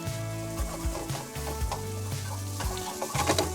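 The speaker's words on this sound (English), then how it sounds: "while we're looking for these onions to be sautéed, cooked, half cooked" Onions sautéing in a pan for an omelette, with a steady sizzle and brief scrapes and clinks of stirring. Tonal music plays throughout and sits over the cooking sound.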